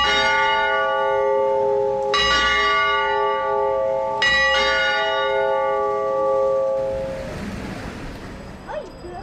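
Church bells peal inside the bell tower of León cathedral, loud and close, with two strong fresh strikes whose rich overtones ring on and slowly fade into open outdoor ambience.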